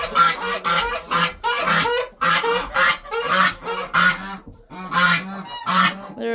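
Geese or ducks at their nests honk loudly and close by in a rapid, continuous series of harsh calls, with short gaps between bursts and no talking.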